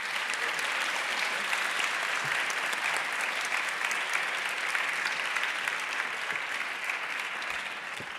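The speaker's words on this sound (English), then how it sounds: "One more round of applause, please." A large audience at a European Green Academy opening keynote gives a sustained round of applause, dense and even clapping that fills the room for eight seconds without speech.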